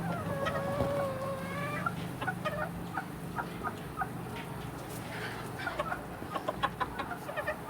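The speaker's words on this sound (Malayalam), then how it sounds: "നാടൻ കോഴികളാണ്" Native chickens clucking and calling steadily over a busy outdoor background, with several birds at close to medium distance and occasional sharper squawks.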